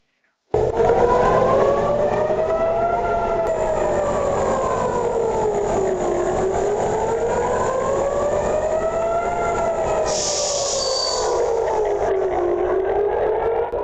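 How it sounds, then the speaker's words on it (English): A wailing air raid siren during a ballistic missile attack on Tel Aviv, loud and continuous, its pitch slowly rising and falling in long cycles, with a brief higher hiss near the end. "sirens."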